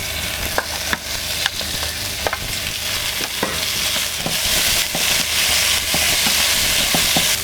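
Strips of cuttlefish sear in a hot pan in a restaurant kitchen, giving a loud, continuous hiss and crackle with repeated sharp clicks and scrapes as the pieces are tossed, with no speech.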